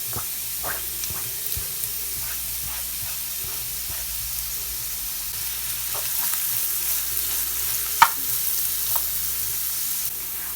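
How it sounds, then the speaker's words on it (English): Carrots and onions sauté in oil over medium heat for a red lentil soup, giving a continuous, soft sizzle with scattered stirring clicks and one sharp knock partway through. "Now let's saute our carrots and onions on medium temperature."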